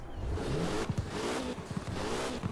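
A Porsche 718 Cayman GTS engine in the game Forza Horizon 4 revs up with rising pitch, briefly dropping as gears shift, then climbing again; loud and continuous, with no voices.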